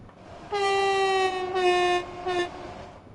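A train in Train Sim World 3 sounds its horn in a long steady blast followed by two shorter ones, over a low rumble of running on the rails, with no voices.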